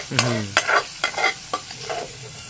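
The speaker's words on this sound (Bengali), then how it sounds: "আর এক মিনিট ভাজলে পুরো ফুল ফ্রাই হয়ে গেছে" Small chuno fish frying in oil in a pan while being stirred: a soft sizzle runs under several distinct scraping strokes spaced about half a second apart, close up and with no talking.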